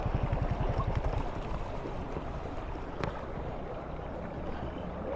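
River water churning and splashing as a motorbike fords a shallow river in Aguilar, Pangasinan; a steady, close rush of flowing water with a few louder surges early on.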